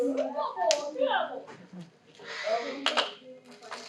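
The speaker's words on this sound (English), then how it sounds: "Everyone give a round of applause." Children clap for classmates giving presentations in a small homeschool group, a brief scattered patter of hands close by, mixed with kids' chatter and talking throughout.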